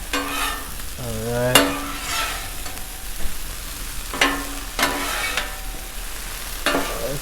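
Chicken and broccoli with butter fry on a Blackstone griddle in a steady close sizzle, broken by several sharp scraping stirs, while someone speaks briefly in between.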